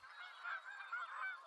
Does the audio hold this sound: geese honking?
yes